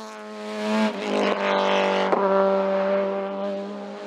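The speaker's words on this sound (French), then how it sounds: "Samuel Durassier prend la 2e position de la classe F2-3 dans la toute dernière ascension du jour au volant de sa Honda Civic Type R." A Honda Civic Type R race car powers up a mountain hill climb, its engine note loud and close with a steady high-revving harmonic whine that rises slightly between gear changes, running alone for several seconds.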